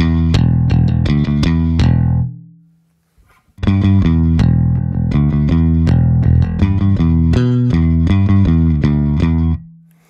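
Bass guitar on a JPJJ-style instrument with its tone knob turned, mixed with drums, playing loud, steady plucked notes in two phrases split by a short silent gap around the third second.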